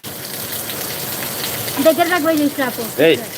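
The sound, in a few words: rain falling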